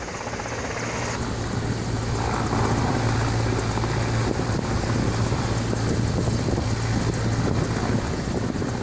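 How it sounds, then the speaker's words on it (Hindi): An Indian Air Force rescue helicopter arrives over a river island, its rotor thudding loud and close in a steady beating drone with gusting wind noise across the microphone. "वायुसेना का हेलीकॉप्टर पहुंचता है"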